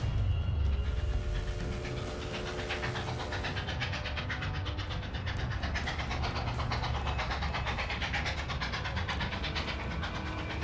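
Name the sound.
packed train speeding along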